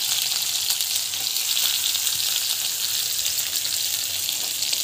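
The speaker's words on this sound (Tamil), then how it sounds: "இது வந்து நல்லா ஃப்ரை ஆகிட்டுருக்கு." Green chili and onion fry steadily in hot oil, giving a close, constant sizzling hiss with no pauses and no voices.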